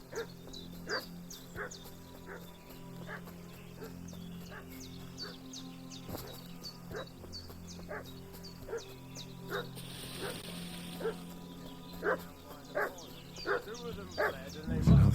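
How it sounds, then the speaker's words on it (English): A dog barks and yips repeatedly at a distance in Kingdom Come Deliverance 2, sharp scattered barks over steady ambient game sound, with voices talking at points. "What's that dog making such a fuss about?"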